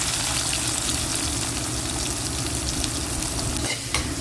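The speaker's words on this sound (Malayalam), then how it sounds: "ഇനി നമ്മൾ ചെറിയ ഉള്ളി നല്ലതായിട്ടൊന്ന് വഴറ്റിയെടുക്കാം" Shallots sautéing in a hot pan give a loud, dense, continuous sizzle up close, with faint stirring scrapes and a brief dip near the end, no voices.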